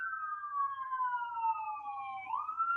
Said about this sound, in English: I didn't plan the sirens in the background